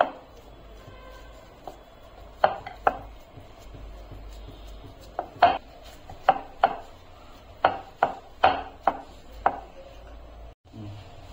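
Soft dough made from sabudana is patted flat by hand on a board greased with ghee, giving a run of about a dozen short, close slaps in irregular rhythm over a quiet kitchen background with no talk.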